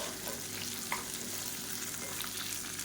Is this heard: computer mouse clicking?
no